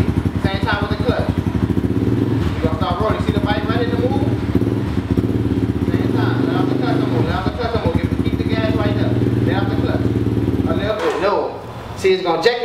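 A Raptor 250 ATV engine putters steadily near at hand and revs as the clutch is let out, with a child learning the manual clutch; the engine dips briefly near the end.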